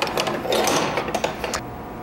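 A metal rasp scraping a wooden toy-top handle in a woodshop, a continuous close, coarse rasping with quick uneven strokes and no pauses.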